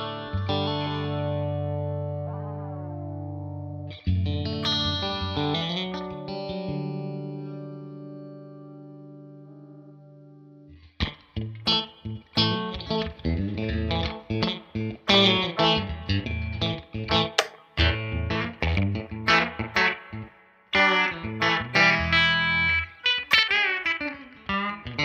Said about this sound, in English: There's a great delay. Stereo, ping pong.